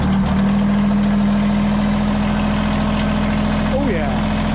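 A steady engine idle, loud and close, with a strong low hum that holds throughout and a brief mechanical change near the end.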